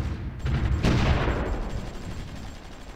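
Anti-tank guns fire in the strategy game Supreme Ruler Ultimate, a loud burst of overlapping shots swelling into a booming blast that decays over a few seconds, with no talk.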